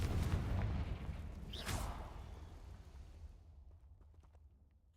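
In the Hogwarts Legacy video game, a Bombarda blast spell goes off as a loud, close burst with a whooshing sweep. The rumble then fades to faint debris ticks.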